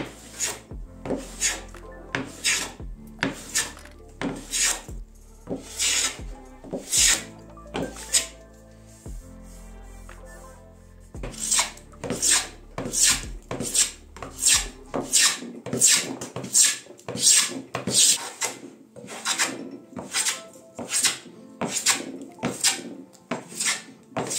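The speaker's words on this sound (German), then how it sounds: "denn wir werden es einfach hier runterhobeln" Repeated rasping strokes of a hand plane shaving a wooden table being restored, a steady rhythmic series of scraping passes close by, with a short pause partway through.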